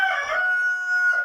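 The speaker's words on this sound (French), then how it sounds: "Bonjour le coq." A rooster crows in a stable, its cock-a-doodle-doo loud and close for one sustained call with no talk around it.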